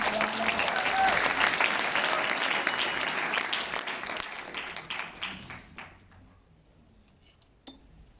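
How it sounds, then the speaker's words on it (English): Applause from a convention audience at a network marketing event in South Africa, dense and sustained at first, then thinning into scattered claps and fading over the last few seconds. "give yourselves a nice warm round of applause"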